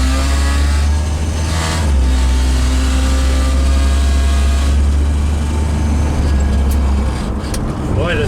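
A Gremlin car drives along with a loud, steady engine drone and road rumble close up, the engine note rising and falling slightly throughout.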